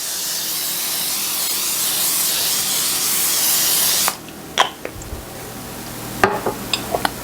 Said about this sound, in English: you're going to spray it with cooking spray